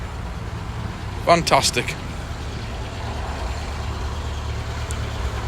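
A Citroen ZX engine idles steadily after a winter in storage, a low even rumble close by, with a brief voice speaking over it.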